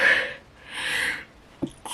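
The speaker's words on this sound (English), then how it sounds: "apologizing for my sneeze." A single person sneezes up close, a breathy sharp burst followed by a second airy exhalation and a short thump, with no talking.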